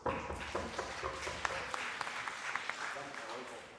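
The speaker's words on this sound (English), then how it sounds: "Please give him a round of applause." An audience at a children's climate summit claps steadily, a dense patter of many hands with a few sharper claps standing out, gradually tapering toward the end.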